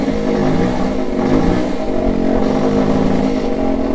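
A small electric car-window motor driven by a PWM controller at about half power buzzes loudly and continuously with a rough, pulsing drone much like a little gas engine idling.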